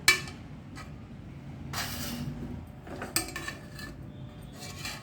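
Cooked bottle gourd pieces being lifted out of a pot of dal, with intermittent clinks and scrapes of a metal utensil against the pot.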